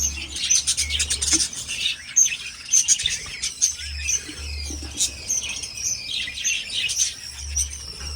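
Pet budgies in a breeding setup chirp steadily while feeding their chicks, a dense, continuous chatter of high tweets and calls running the whole time, close and moderately loud, with no voices.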